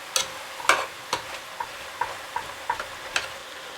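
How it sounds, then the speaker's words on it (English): A spoon taps and scrapes against a pan while tomato soup is stirred into a mixture for unstuffed bell peppers. Soft clinks repeat at an uneven pace, close by, with no voices. "Stir it up and mix it together."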